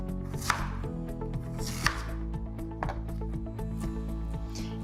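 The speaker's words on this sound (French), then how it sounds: "on les coupe grossièrement et on les plonge directement dans l'eau" Taro (tarua) being roughly cut with a knife on a board, a series of firm, irregular chopping knocks close by, with no talking.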